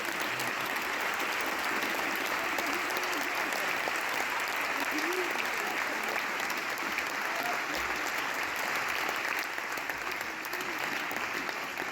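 Sustained applause from a concert audience in Besançon fills the whole stretch, a dense, steady wash of clapping with no break.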